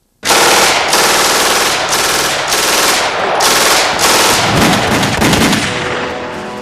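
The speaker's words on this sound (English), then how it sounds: "the high cyclic rate of fire of that machine gun sounded like a sheet being torn in two" A German machine gun fires at a high cyclic rate, a loud continuous tearing burst broken into several long volleys with short gaps, dense and close with no pause in the roar.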